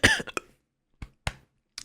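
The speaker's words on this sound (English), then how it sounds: "sorry guys, we're coughing a little bit" Several separate coughs from a person, one loud burst at the start followed by sharper single coughs spaced through a quiet stretch, close to the microphone with no talk.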